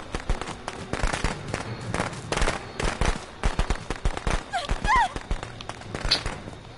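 Rapid bursts of firecrackers crackle and pop in the Friday the 13th video game, dense irregular volleys running the whole stretch like gunfire, loud and close, with a voice talking faintly underneath.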